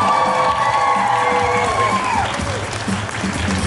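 A crowd at a Baltimore sideshow performance applauds and cheers loudly, steady clapping with some whoops throughout, a rising tone sweeping down partway through.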